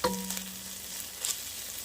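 A wooden spoon stirs wilted greens in a non-stick pot over a steady sizzle, with a few soft scraping strokes and a brief clink, close and moderately loud with no talking.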